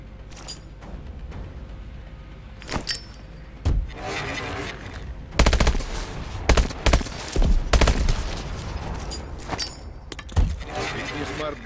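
Bursts of gunfire from a Call of Duty: Advanced Warfare training exercise, with shots at targets through a wall. Several sharp separate reports and clusters ring out over continuous background game sound and some voice.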